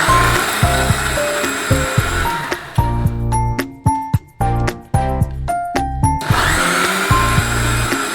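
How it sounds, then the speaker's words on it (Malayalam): A kitchen mixer grinder whirs loudly while grinding coconut with boiled chickpeas, its motor surging and cutting out in repeated pulses, with short pauses and jar rattles between runs. "മിക്സിൻ്റെ ജാറിലിട്ടിട്ട് അരച്ചെടുക്കലാന്ന്"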